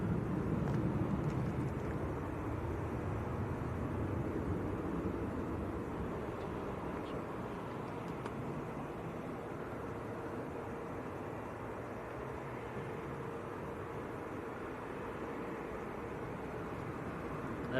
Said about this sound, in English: Next to go will be this Jet2 A321. Not a Neo, this one, it's just a good old A321 going down to Parma.